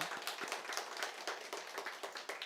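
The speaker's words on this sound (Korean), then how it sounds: "하나님 아버지께 감사하다고 영광 올려드리는 박수 올려드리겠습니다." A church congregation at a New Year's Eve service claps together in a steady, rhythmic beat, many hands striking in quick, even pulses at moderate distance.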